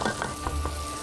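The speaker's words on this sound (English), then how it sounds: "let the beef mince fry. As you can see, it's frying on high heat." Beef mince frying on high heat in a pan, a soft steady sizzle with faint stirring scrapes, brief and close, no voices.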